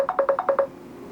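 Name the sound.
telephone ringing, incoming call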